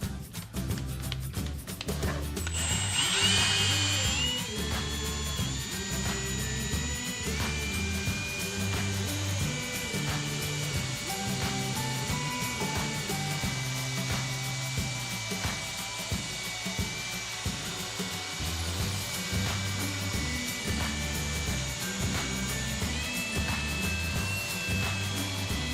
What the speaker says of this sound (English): back to buffing.